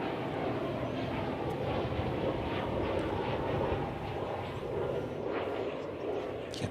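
An airliner taxiing at DFW Airport, its engines giving a steady, broad rumble and whine that holds at an even level throughout, heard from a moderate distance with no voices over it.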